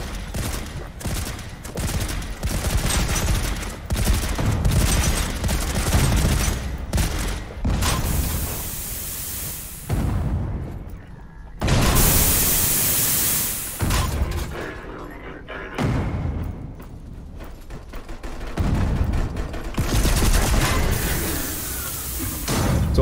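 Weapons fire in the video game Volcanoids, with dense bursts of rapid shots and heavy impacts booming almost without pause against a loud, cluttered backdrop.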